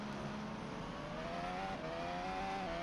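On-board Formula 2 race car engine at the Macau Grand Prix during sprint qualifying, a loud steady high-revving drone with rising gear-pitch sweeps, continuous and close throughout with no talk.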